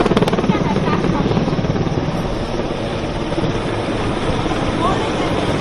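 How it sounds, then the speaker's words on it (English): A naval helicopter inserting a team of marine commandos during a multinational naval exercise at sea, its rotor chop loud and close with steady rapid thumping over engine roar. "Charlie helicopter as they insert a team of marine commandos, also called Argos"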